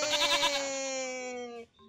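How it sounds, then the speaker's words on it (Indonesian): A goat gives one long, wavering, nasal bleat, close and clear, that trails off after nearly two seconds. It plays as an animal sound in a kindergarten lesson about land animals. "ada kambing in English, goat"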